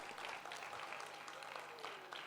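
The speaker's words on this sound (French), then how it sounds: "Beaucoup d'applaudissements pour lui." Applause from an audience welcoming a guest, Bruno Compaoré, at a business talk event: a steady, dense wash of clapping held at even loudness for a couple of seconds with no talk over it.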